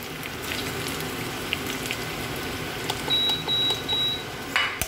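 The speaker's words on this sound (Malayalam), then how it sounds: "അതിലോട്ട് ഞാനിപ്പോൾ സവാള കട്ട് ചെയ്തില്ലേ അതിട്ട് കൊടുക്കും കേട്ടോ" Sliced onion sizzles in hot oil with cinnamon and cardamom, a steady crackling hiss throughout with a few brief spatters and a faint electronic beep near the end.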